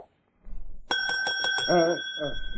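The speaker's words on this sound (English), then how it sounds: "There was a bell on the counter." A shop counter bell in a woodworking shop rings with a bright, sustained metallic tone, struck once with its ring hanging on under talking.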